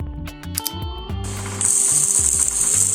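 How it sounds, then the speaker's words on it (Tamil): A DIY electric screwdriver built from a servo motor starts with a few clicks and ratcheting taps, then settles into a steady high-pitched whine that runs close and fairly loud to the end. "இதுக்கப்புறம் இதில் நமக்கு தேவையான ஸ்க்ரூ பீட்டை போட்டு யூஸ் பண்ணி பார்க்கலாம்."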